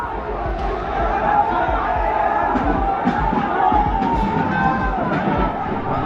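A crowd of hundreds gathered on a street at Turkman Gate in Delhi during unrest, a steady dense roar of many voices with occasional shouts rising above it.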